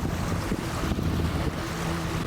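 Waves on the Dniester river in cloudy, overcast weather, a brief steady wash of water noise with wind buffeting the microphone, loud and close, no voices.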